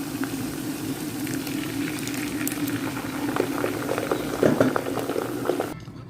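Tomatoes are added to a pot of spinach soup, which bubbles and sizzles steadily with soft popping and plopping, growing louder and busier midway before dropping away at the end; no talking.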